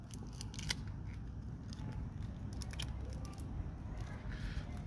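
Scissors snip small pieces of sellotape for a homemade paper fan, quick faint crisp clicks scattered through a quiet room with steady low background hum.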